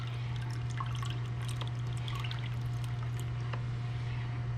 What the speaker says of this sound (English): I'll go ahead and pour it slow while I mix